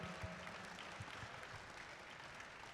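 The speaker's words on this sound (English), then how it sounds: "give them a huge round of applause" Audience applause at a large district conference event, a continuous, even wash of many hands clapping heard from a distance, with little talk over it.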